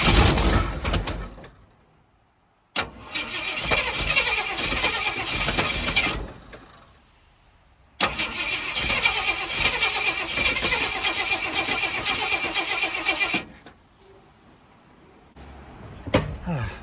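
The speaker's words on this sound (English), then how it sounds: "Not quite enough left in that battery to get her cranked over, especially since we're priming up the fuel." A car engine cranking on a weak battery while fuel is primed: two long, loud stretches of steady starter whirring, each ending without the engine catching, separated by quiet pauses, with a short final burst at the end.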